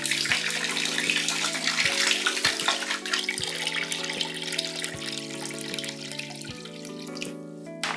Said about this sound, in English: you're going to top up the bucket to 6 gallons of just regular